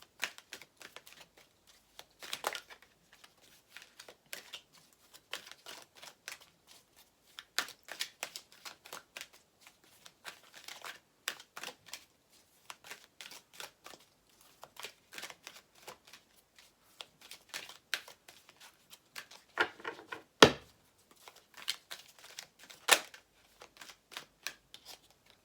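Tarot cards are riffled and flicked in repeated quick bursts of papery shuffling, close and fairly quiet, with a sharper snap or slap near the end and no talking.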